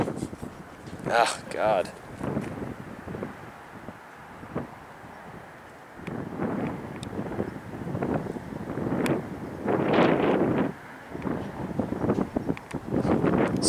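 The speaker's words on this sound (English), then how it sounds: "I'm gonna stand up, and the wind's gonna hit me." Outdoor wind buffets the microphone in loud, irregular rumbling gusts at night, with a voice breaking through briefly between blasts.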